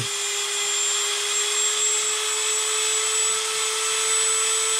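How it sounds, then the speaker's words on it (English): Small carving bit on a rotary tool plunged straight into wood to cut a tiny eye, a steady high-pitched motor whine held constant and close for several seconds, with no talking. "If I have really small eyes, you can plunge these straight in, all right, and slowly"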